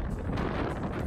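Strong wind buffets the microphone at an Australian beach on a hot 40-degree day, a steady loud rumbling roar that fills the whole clip with no talk.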